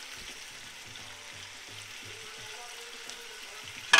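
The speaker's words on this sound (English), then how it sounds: "what I'm going to do is add about a quarter cup of vinegar" Vinegar added to a hot pan for Jamaican escovitch; a faint, steady sizzle hums underneath with soft background voices, ending in a sudden louder burst.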